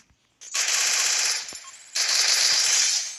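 Two long bursts of rapid automatic gunfire in the Free Fire video game, loud and close, separated by a short pause, with a faint metallic clink between them.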